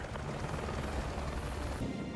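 A military extraction helicopter in the video game Modern Warfare 2, its steady rotor thrum and engine whine droning continuously at even loudness, with no talking.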